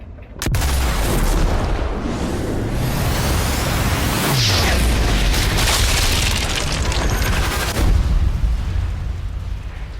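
A battle between Nazi occupiers and rebels in Sniper Elite 4, with loud booming explosions and bursts of gunfire over a dense continuous roar of combat, fairly close and sustained throughout.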